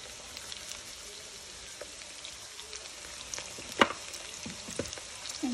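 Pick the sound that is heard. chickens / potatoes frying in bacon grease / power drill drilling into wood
potatoes frying in bacon grease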